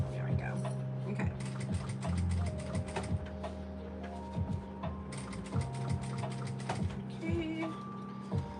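A sewing machine is slowly hand-cranked past metal zipper teeth on an upcycled Gucci bag, giving irregular mechanical clicks and ticks over a low motor hum, close and moderately quiet.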